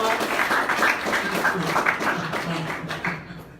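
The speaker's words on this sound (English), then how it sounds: "let's give a round of applause for David" An audience applauds a guest after a 677-pound deadlift interview segment, a sustained round of clapping with voices talking over it, fading near the end.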